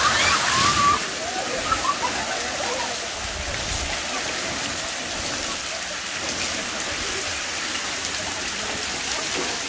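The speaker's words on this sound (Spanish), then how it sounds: "Ya está llenando el barril de agua otra vez." Water gushing and splashing into a barrel at a river pool, a steady broadband rush that fills the whole stretch, louder and sloshier at the start, with voices talking faintly underneath.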